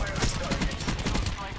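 Rapid suppressed gunfire from a Call of Duty Black Ops 4 match, a fast rattling string of close shots that runs the whole moment over steady game noise.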